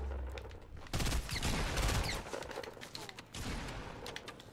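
Fortnite gunfire bursts out in a dense, rapid fusillade of shots, loud and close, then thins into scattered volleys. Voices can be heard faintly beneath the shooting.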